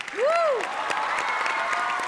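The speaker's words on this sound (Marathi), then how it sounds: "एकदा जोरदार टाळ्या वाजवा साहेबांसाठी" A studio audience at a Marathi comedy show breaks into applause, a steady crowd clapping that opens with a brief rising-and-falling whoop, loud and close throughout.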